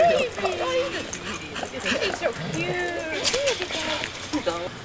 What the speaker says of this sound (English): That's a real dog.